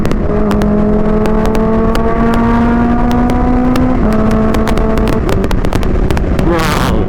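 A supercharged stage 3 Kawasaki Ninja H2 motorcycle rated at 300 bhp accelerates hard, its engine note climbing loud and close through rising revs with a gear change partway, ending in a sharp burst.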